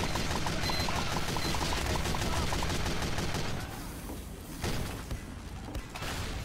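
Rapid gunfire in Team Fortress 2, a dense rattling stream of shots that runs loud for several seconds before easing into scattered bursts.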